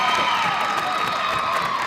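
A home crowd at an Elmhurst College women's basketball game against North Central College cheers after a shot clock violation, a steady roar of voices and whoops filling the gym throughout.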